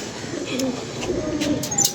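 Pigeons cooing softly nearby, a low murmuring coo repeated over a couple of seconds with faint chirps above.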